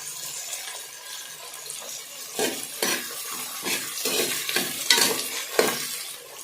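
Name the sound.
curry leaves sautéing in oil for chicken curry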